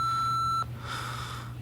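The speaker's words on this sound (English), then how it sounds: "leave your name and telephone number at the sound of the tone" A single steady electronic answering machine beep, loud and alone, lasting about half a second before cutting off into a low hum and faint room noise.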